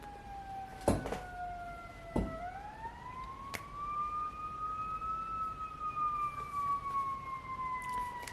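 Ambulance siren passing at a distance, a faint wailing tone that rises and slowly falls, with a few sharp knocks nearby and no talking.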